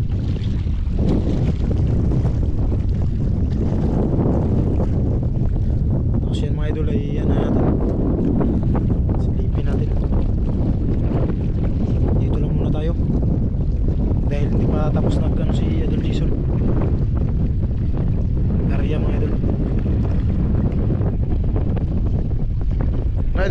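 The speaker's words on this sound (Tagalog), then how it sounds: "yung hangin." Strong wind roars steadily across the microphone at a seashore, buffeting and rumbling without pause, with someone talking at times beneath the gusts.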